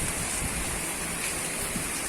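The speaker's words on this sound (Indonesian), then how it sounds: "Pagi ini Semarang bagian bawah diguyur hujan disertai angin yang bertiup dengan kencang." Heavy rain driven by strong wind in Semarang, a dense, even hiss of downpour that stays loud and continuous for the whole short stretch with no voices.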